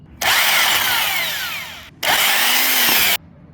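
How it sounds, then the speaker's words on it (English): Two loud bursts of an impact drill whir up close, each running for a second or so with a falling whine as it spins off a lock nut during rear shock replacement on a 2016 Volkswagen Jetta. "Then we'll remove it with our impact drill."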